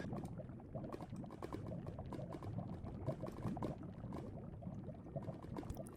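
Bubbling, gurgling liquid noise from swimming through lava in Minecraft plays as a faint, continuous, crackly churn with no talking.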